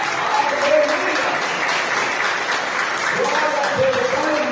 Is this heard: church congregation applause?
yes